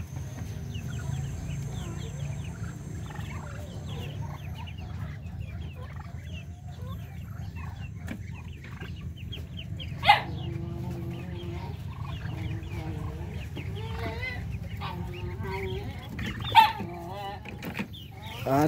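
Native Darag chickens and chicks on a farm cluck and chirp continuously at moderate distance, with scattered peeps and a couple of sharper calls standing out, and a low background rumble throughout.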